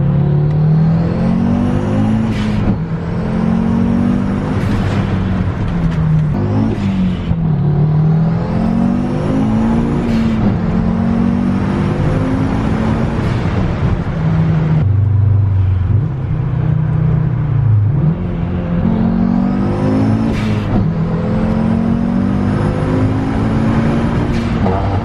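Turbocharged 2.5-litre five-cylinder engine swapped into a VW Golf R, loud and close, revving hard through repeated pulls with rising pitch, brief drops between gears, and a sharp dip midway before climbing again.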